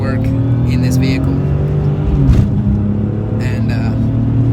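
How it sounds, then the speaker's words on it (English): A 650 hp supercharged BMW M3 driving on a road, its exhaust giving a loud, steady low rumble with a brief surge midway, heard from inside the car while a person talks over it. "Oh, that exhaust sound. And the supercharger!"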